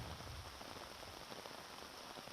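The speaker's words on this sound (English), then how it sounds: "this rain just decided to come down hard" Heavy rain pours steadily onto a golf course during a final-round tournament, a dense continuous hiss of drops on grass and surfaces with no voices.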